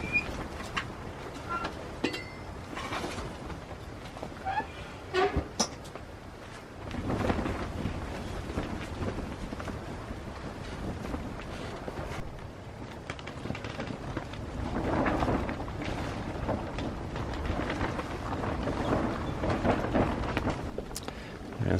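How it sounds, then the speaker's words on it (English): Gusty wind roars and buffets a tent at a frozen winter camp during a windstorm at -4°F, with fabric flapping and rustling in irregular surges and a few sharp snaps. "you get slammed with a really loud wind rush and tent noise"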